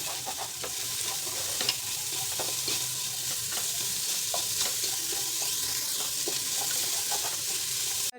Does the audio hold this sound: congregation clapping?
no